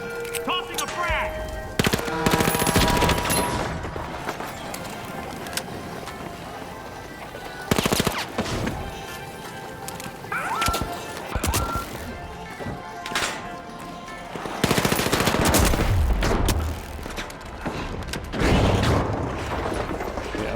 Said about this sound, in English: Tossing a frag.